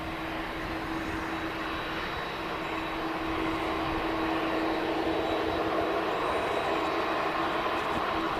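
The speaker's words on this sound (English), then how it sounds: "And here is that second EasyJet arrival." An EasyJet airliner touches down on runway 23 right at Manchester Airport, its engine roar steady and sustained at moderate distance with a continuous hum throughout.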